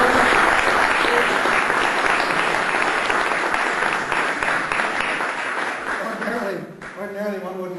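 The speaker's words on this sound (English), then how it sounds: "would you please join me in giving a very warm round of applause to my friend and" Warm audience applause for a speaker at a talk on buildings, energy and climate, dense clapping from a crowd that gradually thins, with a voice starting to speak near the end.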